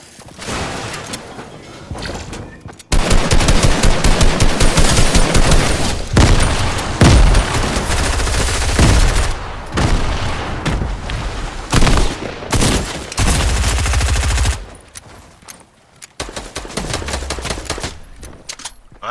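Dense automatic gunfire from a Fortnite fight against an opponent: loud, rapid bursts of shots and booms that run almost continuously, pausing briefly and then resuming in heavy volleys.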